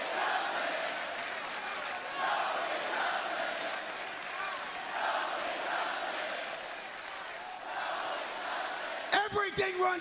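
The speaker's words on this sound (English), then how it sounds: "the crowd chants" Wrestling arena crowd at a live WWE Raw event, a broad sustained roar and chant from a large audience that holds steady throughout and swells sharply at the very end.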